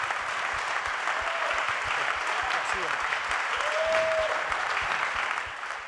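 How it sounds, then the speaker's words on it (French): Sustained applause from an audience at an official launch event, a dense patter of many hands clapping continuously, with faint voices and a whistle-like tone underneath. "Applaudissements nourris pour Nils Joyeux et André Hubert Roussel."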